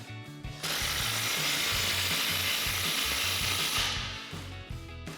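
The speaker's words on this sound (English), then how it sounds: "we'll grab our 15mm socket and we're going to fully tighten this one down" A ratchet with a 15mm socket tightens an exhaust clamp on a Toyota Tacoma, with rapid pawl clicking running loud and steady at close range for several seconds before it slows.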